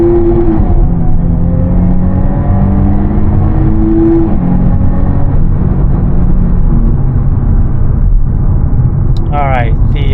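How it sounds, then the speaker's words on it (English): Jaguar F-Type V6 with a Stage 1 tune accelerating hard from first gear at about 10 mph, a loud, close engine roar rising in pitch through the revs, briefly dipping at a shift before climbing again. "let's do another pull here from first gear"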